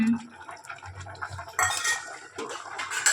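Cooked tamarind-flower curry is mashed in a pot, a scraping, clinking run of utensil-on-metal strokes and soft wet squelches, irregular and fairly close, with faint background murmur.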